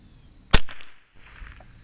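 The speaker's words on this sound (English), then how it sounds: "Shooting at the same spots." A single sharp rifle shot rings out close by at a target during a scope mount test, followed by a brief echoing tail.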